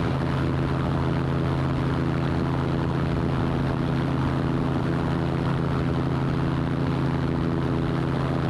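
The engine of a light aircraft held near 4,000 rpm in level flight around 60, on an approach toward a water landing, drones close and loud with a steady tonal hum and no talk.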